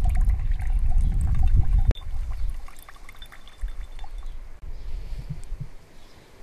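Filtered water pours and trickles steadily into a container, a heavier gush at first, then settling into a lighter, quieter flow.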